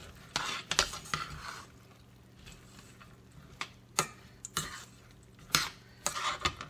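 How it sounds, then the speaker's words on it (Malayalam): A spoon stirs a besan boondi ladoo mixture in a pan, making sharp scraping clacks and knocks against the metal in an irregular rhythm. The sounds are close and fairly quiet, with no talking. "എന്നിട്ട് ഇത് നല്ലതായിട്ടൊന്ന് ഇളക്കി കൊടുക്കുക."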